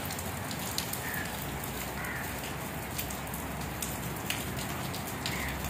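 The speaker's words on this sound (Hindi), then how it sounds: "बारिश तो अभी कुछ कम हुई है" Heavy rain with hail pours steadily outdoors in Taxila, a dense hiss with scattered sharper taps and impacts, heard alone at a low, even level.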